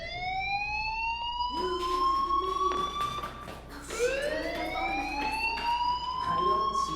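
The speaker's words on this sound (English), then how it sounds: "do you hear that fire alarm? That means you should be outside." An electronic fire alarm in the game Life Is Strange sounds in rising, drawn-out tonal wails that repeat and overlap, with a voice briefly speaking underneath.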